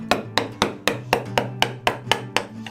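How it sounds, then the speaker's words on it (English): Eight evenly spaced, sharp strikes ring out close by, each a crisp knock with a short decay, as a chisel is driven into a marking-gauge line to cut a dado in wood by hand. "I'm going to put the chisel right into the marking gauge line."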